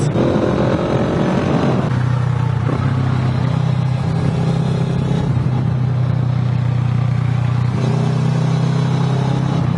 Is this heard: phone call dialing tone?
no